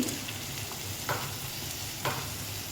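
Chicken being stirred as it fries in ghee with garam masala, a steady low sizzle broken by two or three brief scraping stirs, with no talk.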